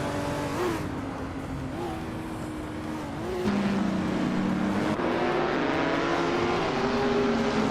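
Race cars run neck and neck, their engines droning continuously with pitch shifts that jump between gears. The sound gets louder partway through as the cars press closer.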